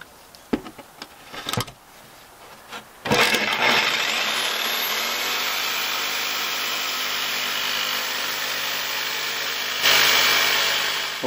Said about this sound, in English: I'm going to be cutting wood outside.